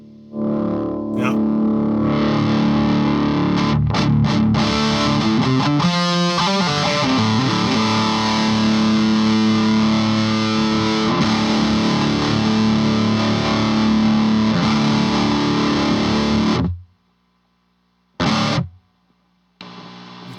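Heavily distorted electric guitar on the bridge pickup through a DIY-built AionFx Stratus pedal, loud sustained chords ringing for long stretches, then cutting off abruptly near the end with brief stabs and hiss.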